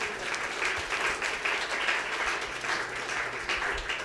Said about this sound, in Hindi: तालियां बजानी है तो सही बजाइए।